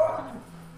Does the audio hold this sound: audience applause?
no